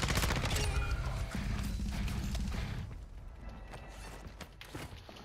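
Dense gunfire in a video game firefight, with a fusillade of rapid shots and mechanical clatter loud at first, then thinning into scattered, quieter bursts.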